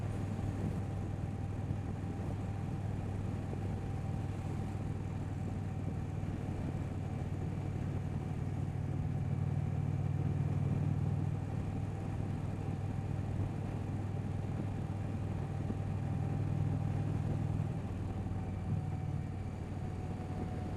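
A 2025 Indian Roadmaster 112 touring motorcycle is ridden at steady speed, its engine giving a continuous low drone with wind rush and slight rises in pitch, with no talk.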